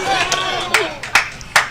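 Several sharp claps spaced about every half second, loud and close, following a stretch of talk and background chatter.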